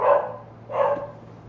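A dog gives two loud, close barks about half a second apart, then falls quiet.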